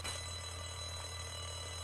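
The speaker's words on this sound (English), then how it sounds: "Why'd that alarm come on?" An alarm in a scene from The Walking Dead sounds as a steady, fairly faint electronic ringing tone that continues through the whole short stretch.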